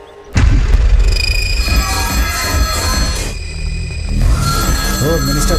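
A telephone rings in a dubbed Hindi feature film, its bell sounding loud and sustained over a dense, booming movie soundtrack.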